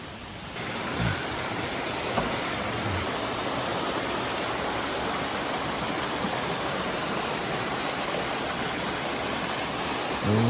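A river at a campsite on the Sungai Batangsi, the water rushing and splitting in two, a dense and loud steady roar that continues without a break.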